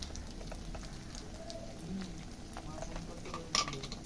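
Spices and turmeric sizzle softly and steadily in a hot pan, with a few light stirring scrapes near the end.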